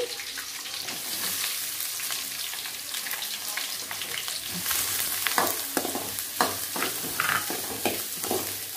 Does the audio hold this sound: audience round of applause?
no